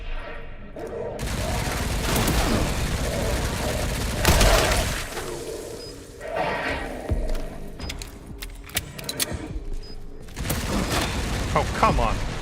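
A gun-wielding zombie opens fire in the Resident Evil Requiem video game. Close, loud bursts of gunfire and booming shots come in clusters, with voices heard at times between them.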